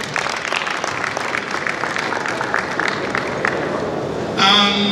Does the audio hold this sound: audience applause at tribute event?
yes